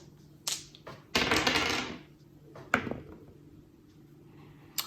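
Red dice clatter and roll across a table during a tabletop board game, a short burst of rattling knocks with a few lighter taps before and after, close and clear.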